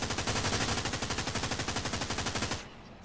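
Rapid machine-gun fire in the World War II video game Hell Let Loose, a loud, evenly spaced burst of many shots lasting over two seconds before cutting off abruptly into quiet.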